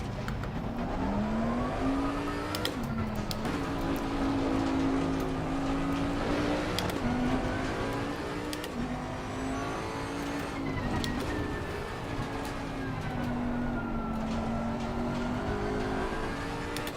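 A Bentley GT3 race car in Assetto Corsa Competizione at Zolder, with its engine droning loud and steady from the cockpit for the whole stretch, its pitch rising and sagging gently as the car accelerates and shifts.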